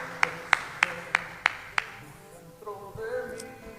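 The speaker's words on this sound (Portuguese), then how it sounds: "Você pode aplaudir o nome do Senhor e encerrar com esse aplauso?" Six sharp, evenly spaced claps from a church congregation during a worship service ring out in a steady rhythm, followed by a soft murmur of voices.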